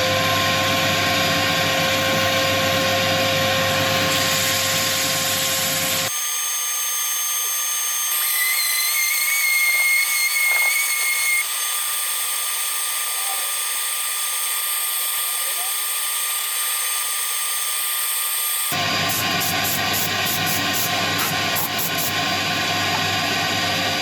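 A lathe spins a spalted wood dolphin turning during sanding, giving a steady, loud motor hum with whining tones; the low rumble drops away for a long stretch midway before returning.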